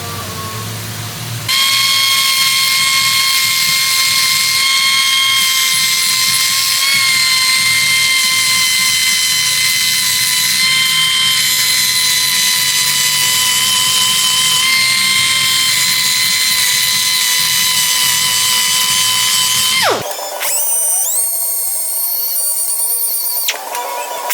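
An abrasive grinder works a weld corner, feathering it in with a 120-grit disc: a loud, steady high-pitched whine that holds for about eighteen seconds, then abruptly drops off and shifts into a brief rougher spin-down.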